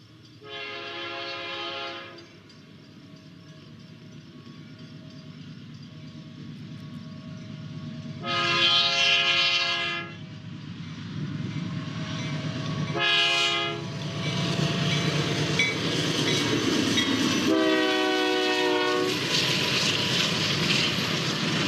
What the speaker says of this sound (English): This is a tremendously busy line, and both freight and passenger trains fly through the Illinois farm country.